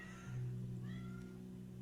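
A cat meows a couple of times, soft and somewhat distant, over a steady low electrical hum with no talk.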